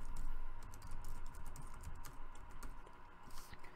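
Someone types on a computer keyboard, producing a rapid, uneven stream of close, soft key clicks over a faint steady background hum.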